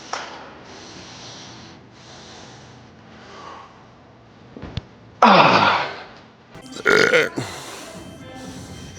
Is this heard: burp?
yes